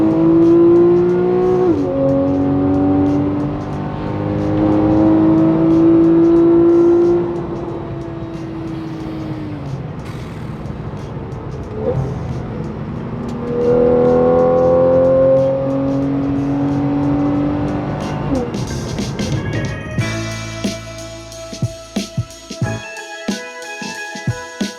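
A Porsche 911 Carrera 4S X51 accelerates hard, its engine note climbing through two long revving pulls with a gear change between them, loud and close, ending in a burst of clattering mechanical noise.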